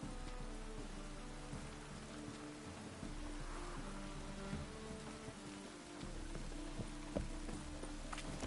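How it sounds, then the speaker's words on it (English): Steady rain patters on a surface in the video game The Witcher 3: Wild Hunt, with scattered drips and soft clicks over a low continuous hum. "And it's raining again."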